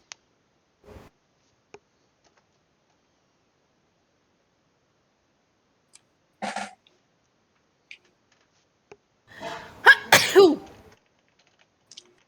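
After long near-silence and a few soft clicks, one sharp sneeze bursts out near the end, close and loud.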